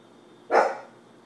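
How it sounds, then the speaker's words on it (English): A single short, sharp dog bark rises out of a quiet room tone and fades within a fraction of a second, fairly close and alone. "The dogs are upset."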